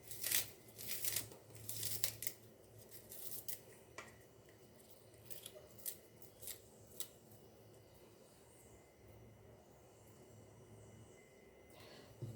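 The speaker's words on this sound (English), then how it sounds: "I'm going to use 2 spring onions. Just going to chop this like so." Two fresh spring onions are chopped with a knife, a quiet run of crisp cutting taps clustered at the start and again midway, with soft rustling in between against a faint background hum.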